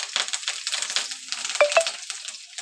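A tempering sizzles and crackles in a pan as coriander leaves go in with onions, coming as soft, uneven bursts of frying with a couple of small metallic clinks.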